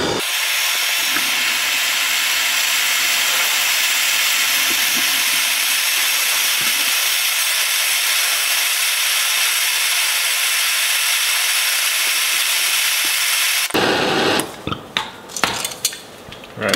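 A torch hisses steadily and loudly as it heats a stuck steering part on a Polaris RZR XP 1000 during a steering kit install, a near-constant hiss that cuts off near the end, followed by brief clanks.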